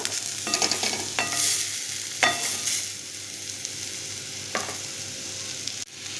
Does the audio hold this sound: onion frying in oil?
yes